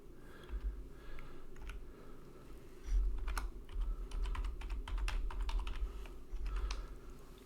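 Typing on a computer keyboard while entering a password: a steady run of close, crisp key clicks with uneven rhythm over a low background hum, no voices.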